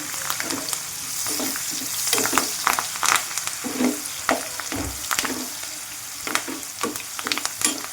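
Onions, green chillies, curry leaves and turmeric frying in a pan for chicken liver curry: a constant crackling sizzle broken by frequent scraping stirs and clicks of the spatula, close and clear with no voices.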